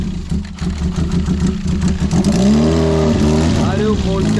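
A racing car that sat unused for five years is cold-started. Its engine catches and revs with a rising, wavering drone midway through, while someone talks over it close to the microphone.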